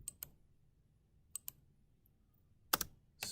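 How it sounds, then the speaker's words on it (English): Spacebar presses on a computer keyboard during CAD work: a few sharp, quiet clicks spaced irregularly, ending with a louder double press, in an otherwise quiet room. "Spacebar on the keyboard again."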